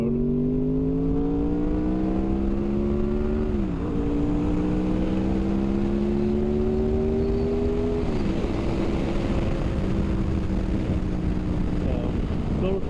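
A Harley-Davidson motorcycle riding along Missouri Highway 94, its engine droning steadily up close with rising pitch as it accelerates, two clear gear shifts dropping the tone, over constant loud wind rush; a rider speaks faintly beneath it.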